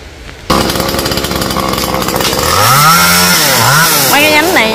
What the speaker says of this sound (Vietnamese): cưa lại nhánh nhỏ nhỏ lại